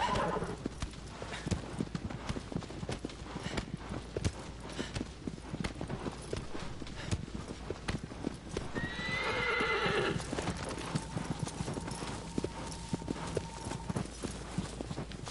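Horse hooves clip-clop at a steady gallop in Shadow of the Colossus on the PS4 remake, with a loud neigh breaking out midway over the running hooves.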